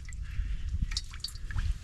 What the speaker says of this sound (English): It's like water and all kinds of junk coming out of there.